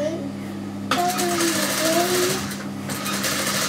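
Sewing machine running a seam through dress fabric, a fast continuous mechanical whir starting abruptly about a second in and holding steady, with a voice speaking over it.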